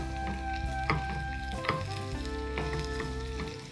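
Garlic and dried chillies sizzle and fry in a pan for a prawn masala dish, a close, steady crackle broken by scraping stirs at a regular pace, with no talking.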